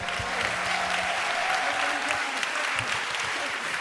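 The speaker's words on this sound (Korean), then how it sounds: "다시 한번 이들 뜨겁게 박수해 주십시오." Warm, steady applause from a church congregation at a blessing prayer service, brisk clapping at moderate volume that continues evenly throughout, with faint voices underneath.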